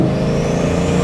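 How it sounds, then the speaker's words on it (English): Bugatti Mistral's W16 engine sounds a steady, loud, close-up drone with its sequential turbos switching from two to four, carrying a deep rumbling low end and a faint rising whine above it. "Did you hear that switch from 2 turbos to 4 turbos?"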